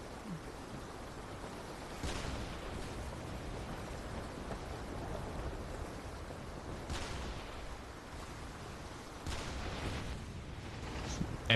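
Artillery fire support in the video game Arcane Odyssey, a dense rumbling barrage with a few sharper booming impacts spaced several seconds apart over constant noisy gunfire.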